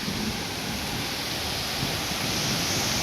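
Honnamma Devi waterfall in Chikmagalur during rain, a loud, dense, unbroken roar of rushing water that fills the whole moment with no let-up.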